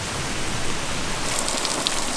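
Heavy thunderstorm rain pours steadily down along a road, a dense even hiss of drops striking surfaces with no pauses and no voices.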